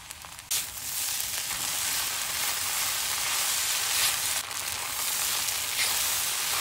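Pressed tofu sheets stir-fried with ginger, pepper powder and thirteen-spice, giving a steady, loud, close sizzle and hiss that runs throughout, with brief stirring scrapes near the start and middle.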